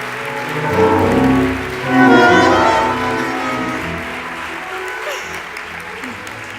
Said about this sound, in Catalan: Demanem un fort aplaudiment per acomiadar a l'alcalde de l'escenari.